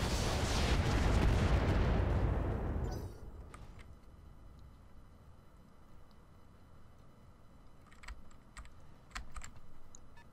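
Mech weapons opening fire in the Roguetech BattleTech game, a loud sustained roaring barrage for about three seconds that cuts off sharply, followed by a low hum and a few faint clicks.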